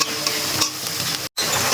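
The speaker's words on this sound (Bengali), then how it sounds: "এবার মশলাটা ভালো করে কষিয়ে নেবো।" Spice paste frying with browned onions in a pan for red chicken curry, a loud, close, continuous sizzle with stirring scrapes, broken by a very brief dropout near the end.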